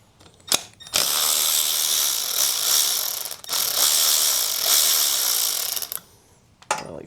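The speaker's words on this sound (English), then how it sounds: "Undo some bolts and we should be able to drop this lower end." A ratchet undoes bolts on the lower unit of a vintage Honda outboard motor, giving long, loud runs of rapid mechanical clicking separated by short pauses and brief knocks, with no talk.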